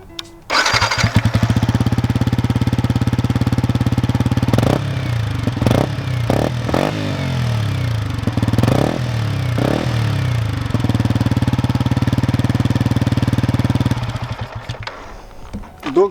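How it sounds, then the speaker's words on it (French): Yamaha XSR 125 motorcycle with an Akrapovic exhaust starts up and idles with a close, loud, throbbing single-cylinder beat, then blips the throttle for several short revs before settling back to idle. "Donc là vous allez entendre la ligne Akrapovic, comment ça rend. Ça fait un petit bruit sympathique, c'est sûr, c'est pas un bruit d'une grosse cylindrée."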